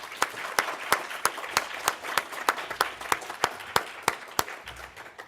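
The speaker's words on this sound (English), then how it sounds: "Let's give our panelists a final round of applause." A conference audience gives panelists a final round of applause after a session on land stewardship in a changing climate: a thin, scattered clapping with distinct individual claps standing out at a steady pace, moderately distant, with no talk over it.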